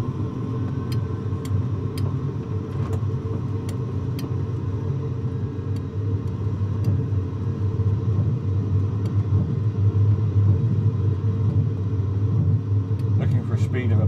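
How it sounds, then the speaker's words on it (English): Four jet engines of a de Havilland Comet airliner roar steadily at takeoff power, a loud continuous rumble throughout, with occasional clicks and a person talking over it. "Pushing the four throttles forward."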